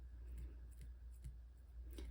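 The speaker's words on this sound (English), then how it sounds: "I'm gonna take my smaller scissors now just to do a little bit of detailing" Small scissors snip the hair of a custom model horse a few times at an uneven pace, close and fairly quiet over a steady low background hum.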